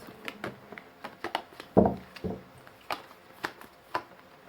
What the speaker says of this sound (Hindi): कर ली है सफलिंग, निकालते हैं कार्ड्स